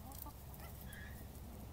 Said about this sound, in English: Down in the orchard, giving my chickens a snack.